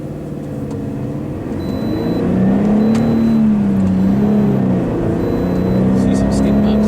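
A car drives down the straight of a track, its engine a steady loud drone that rises in pitch as it picks up speed, with a voice talking over it throughout.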